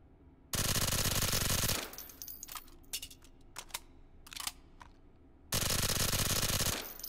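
Full-auto gunfire from a weapon in the VR shooting game Hot Dogs, Horseshoes & Hand Grenades, played on HTC Vive: two loud, dense bursts, one at the start and one near the end, with scattered clicks and handling noises between them.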